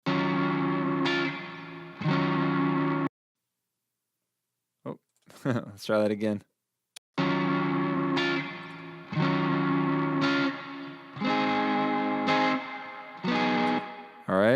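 Electric guitar with gain and heavy reverb plays sustained chords that ring and trail off, then breaks off into a gap and scattered short stabs before the full chords resume; a voice speaks briefly during the break.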